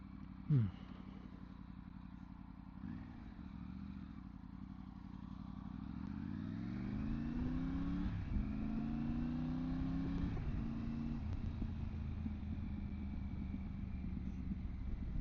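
An adventure motorcycle rides along a road, its engine droning low and rising in pitch as it accelerates through gears, with wind noise throughout.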